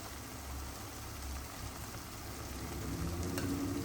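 Coriander and other spice powders are stirred into a Tamil fish curry frying in a pan. A faint, steady sizzle runs with soft scraping stir sounds throughout.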